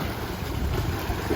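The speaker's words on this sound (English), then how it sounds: "there's a lot of wake from the boats" Steady wash of boat wake water lapping and churning close by at a South Carolina lakeside, with wind rumbling against the microphone throughout.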